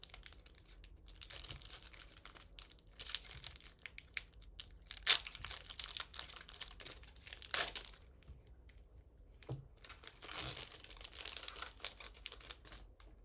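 Crinkly plastic Pokémon booster pack wrappers from Scarlet and Violet Obsidian Flames being crumpled and torn open, a long run of close, quiet rustling and tearing bursts with brief pauses.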